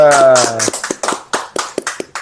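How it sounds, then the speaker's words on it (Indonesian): A small audience at an Indonesian job-training session breaks into scattered, uneven clapping just after a brief voice at the start. "Tepuk tangan buat Paman"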